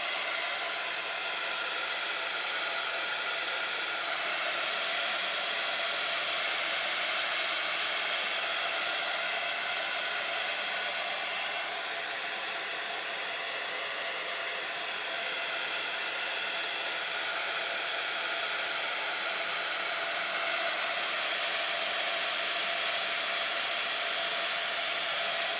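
A hair dryer blows steadily at close range to dry paint on a journal page, a constant broadband whoosh running unbroken for the whole stretch with no voices.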